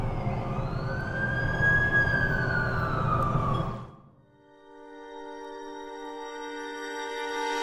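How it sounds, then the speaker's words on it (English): A wailing ambulance siren in The Amazing Spider-Man 2 video game sweeps loudly in rising and falling tones for about four seconds, then cuts off and gives way to a soft sustained musical tone. "That's the ambulance I called."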